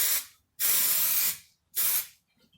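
Spray adhesive hissing from an aerosol tin onto a camper van's rear door trim: the tail of one burst, then a long puff and a shorter one, close and sharp, separated by silence.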